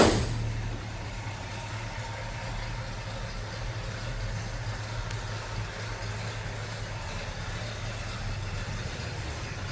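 A 1964½ Ford Mustang coupe with a 289 four-barrel V8 idles steadily and evenly, a low continuous engine rumble heard up close with no talk over it.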